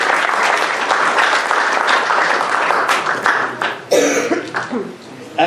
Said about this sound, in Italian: Gli vogliamo fare un applauso.